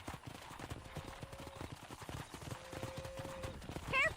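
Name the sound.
horse hooves clopping, from a video game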